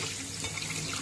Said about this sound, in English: just give it a good rinse first of all